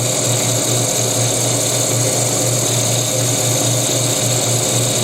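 A power tool sanding wooden prayer beads whines steadily and evenly, a sustained buzzing hum with no pauses and no speech.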